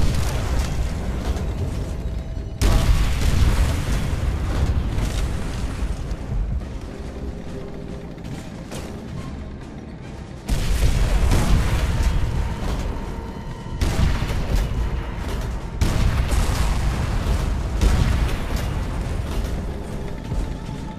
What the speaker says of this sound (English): They're throwing grenades at me.